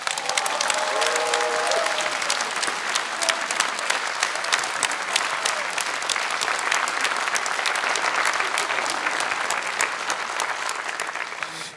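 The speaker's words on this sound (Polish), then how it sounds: "wielkie brawa na przywitanie dla naszych bohaterek i bohaterów" A large crowd at a regional election campaign convention in Kielce applauds loudly and continuously to welcome local election candidates, a dense sustained roar of clapping with faint cheering mixed in.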